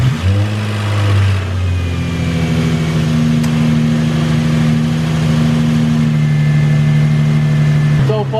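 A car engine cranks, fires and settles into a steady close idle after an oil change, with a constant low hum running beneath the whole stretch.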